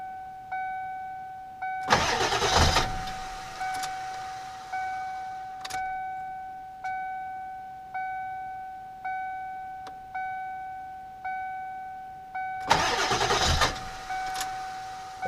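A diesel engine cranks and tries to start in two long, loud bursts, with a steady door-open warning chime ringing repeatedly throughout and in the quiet gap between the cranking attempts.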